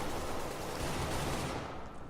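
Dense, rapid automatic gunfire in Counter-Strike: Global Offensive, a continuous rattling burst of shots that cuts off near the end.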